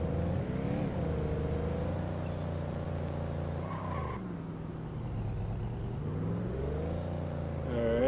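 A car driven in The Godfather video game, its engine droning steadily with pitch rising and falling as it shifts and accelerates, loud and close throughout with no talk.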